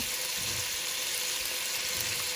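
Sambar masala sizzles with softened vegetables in a hot pan, a steady close-up frying hiss that runs evenly without break.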